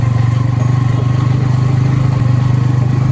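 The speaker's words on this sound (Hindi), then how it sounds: "ड्राइवर भी नया ड्राइवर है और बाइक भी नया बाइक है" A new motorcycle rides along a hilly road, its engine giving a loud, steady, low throbbing drone close by throughout, with no talk.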